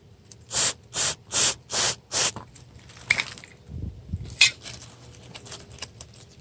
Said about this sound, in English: get your brake cleaner and spray it directly on the sensor.